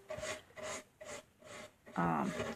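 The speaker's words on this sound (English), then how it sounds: "you just brush it on" A brush drags chalk paint across a small wooden stool in four rhythmic scratchy strokes, close and fairly quiet, ending in a longer, louder rub.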